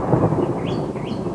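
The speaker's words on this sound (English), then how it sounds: "I hope you guys can hear that thunder" Thunder rumbles low and steady during a Texas rainstorm, a brief continuous roll heard alone with faint rain in the background.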